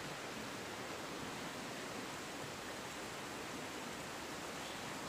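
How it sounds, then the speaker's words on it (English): A creek running right beside a hiker at a stealth campsite near Stoney Creek bridge, a dense, steady broadband rush of flowing water, close and continuous with no talking. "I'm on a creek, and the water is running right near me."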